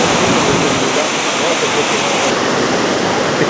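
River water rushing over stones along a long open river, a loud, dense, continuous roar of flowing water close by with no clear pauses.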